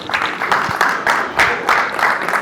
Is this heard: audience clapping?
yes